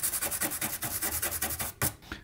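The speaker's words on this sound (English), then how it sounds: "Now let's clean that flux off." Solder flux scrubbed off a circuit board on a vintage electronics project, a rapid rhythmic rasping of back-and-forth strokes, close and loud, with a brief pause and one final scrub.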